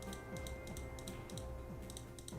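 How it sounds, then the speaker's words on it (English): Crisp clicks from a loud computer mouse repeat in a quick, fairly regular rhythm over a steady background hum, with no voices. "It clicks. Sorry about that. My mouse is loud."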